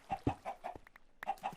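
Minecraft chickens clucking on a game farm, a quick series of short, clear clucks in uneven bursts with a brief pause in the middle, close and fairly quiet, with no talk.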